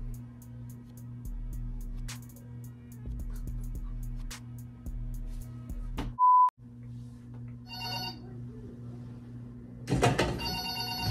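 Telephone ringing indoors, a steady repeating electronic ring running for several seconds, then a brief beep, followed by louder clattering and handling noise toward the end, with no talking.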